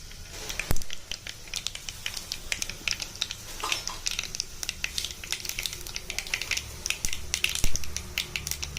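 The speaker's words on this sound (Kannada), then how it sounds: "ಇದು ಸ್ವಲ್ಪ ಚೆನ್ನಾಗಿ ಫ್ರೈ ಆಗಲಿ" Tomato kurma with fresh green peas frying in a pan, giving a steady low sizzle dotted with frequent sharp clicks and scrapes of stirring, close and fairly quiet with no talking.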